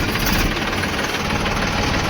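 A farm tractor's diesel engine runs close by, a loud, steady, rapid chugging rumble that does not let up.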